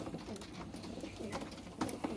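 Mukhi pigeons in a loft, its housing damaged by rainwater, giving soft low coos a few times over a dense background hiss, faint and close-by, with no talk.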